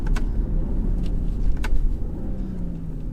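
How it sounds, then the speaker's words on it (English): Inside a 2018 BMW 540i xDrive Touring, the inline-six engine pulls hard with a steady deep rumble and road drone, a few faint clicks and ticks above it, and no talking. "Sounds like an inline six, pulls like a frickin' V8"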